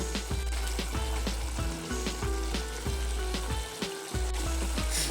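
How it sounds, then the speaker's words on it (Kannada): Vegetable saagu gravy boils in a pot on the stove, giving a continuous close, bubbling sizzle that lasts for several seconds with no talking. "ಓಕೆ ನೋಡಿ ಈ ಥರ ಕುದೀತಾ ಇದೆ."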